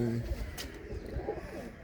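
Pigeon coos from a racing pigeon loft in a Punjabi village, a few low soft calls close by under a man's speech.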